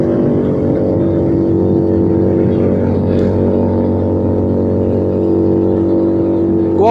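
Keeway SCR 250 motorcycle fitted with a Rez Speed aftermarket exhaust, a loud close engine drone at steady cruising revs, continuous and alone with a slight rise near the end.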